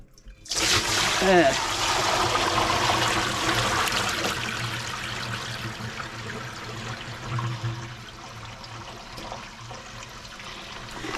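Water gushes and splashes out of a bucket of razor clam shells and guts being strained, a loud pour, then trickles and dribbles away steadily over several seconds.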